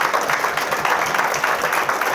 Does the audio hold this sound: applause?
yes